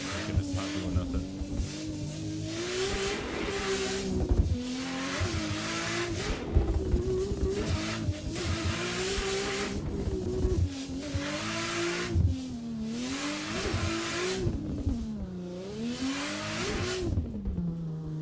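Drift car in a racing game running the Tsujigiri drift mod, stuck in first gear, its engine revving hard and continuously with wavering pitch and some tire squeal throughout.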